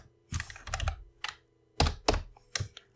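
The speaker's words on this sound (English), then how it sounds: "And you type in artist" Computer keyboard keys being typed on while entering a node search query for OpenStreetMap, sounding as close, crisp clicks in short irregular bursts separated by brief pauses, with no talking.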